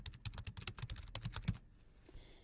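Fingers typing on a computer keyboard, a rapid close run of keystrokes that stops abruptly after about a second and a half, leaving quiet room tone.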